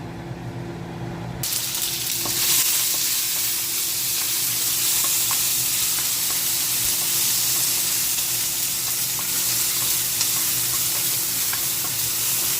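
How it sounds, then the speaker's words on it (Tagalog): Onion and tomato sauté in a hot pan for a quick beef heart dish, a loud, steady close sizzle that starts abruptly after a moment of quiet and holds without a break. "Igigisa ngayon natin itong sibuyas, kamatis natin."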